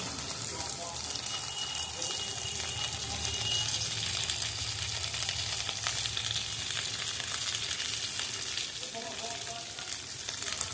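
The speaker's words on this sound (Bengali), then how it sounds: "এবার এই ক্যাপসিকামগুলো দিয়ে আরেকবার নাড়বো।" Capsicum fries in a pan for paneer butter masala, a steady close sizzle with occasional stirring scrapes and faint voice murmurs in the background.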